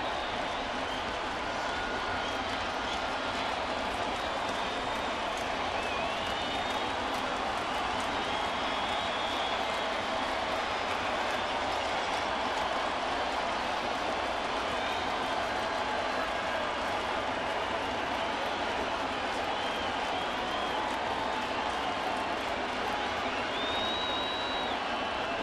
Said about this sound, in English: So the crowd is ready to explode.